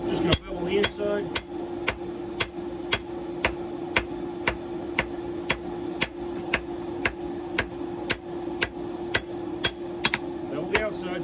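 A hammer forges bevels into a ball bearing Damascus karambit blade: sharp metallic strikes land in a steady, even rhythm, close and loud, over a constant droning hum.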